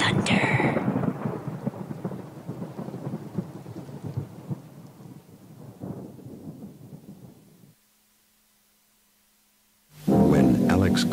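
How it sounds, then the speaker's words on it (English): A thunder sound effect: a long, heavy rumble that rolls and slowly fades into silence, then a loud new burst of noise at the end. "Because after you get struck by lightning, there's thunder."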